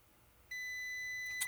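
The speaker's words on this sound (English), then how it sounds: "Now we're getting a beep." A multimeter continuity tester on a motherboard fuse gives a sudden steady high beep that holds without a break, with a small click near the end.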